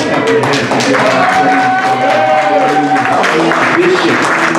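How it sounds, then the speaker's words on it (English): A church congregation at a Men's Day service claps hands amid loud, busy sound, with voices and a sustained musical tone running underneath. "Dr. Susan Jones, come on, clap your hands to give our"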